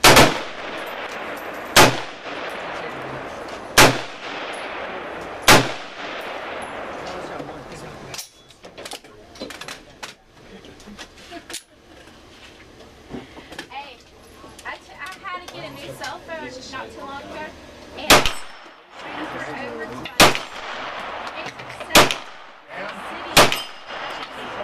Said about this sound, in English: Gotta shoot it.